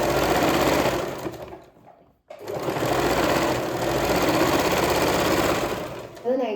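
A sewing machine stitches children's nightie fabric in two runs: a steady, close motor whir with rapid needle chatter, then a brief pause near the middle before stitching resumes, ending with a soft click.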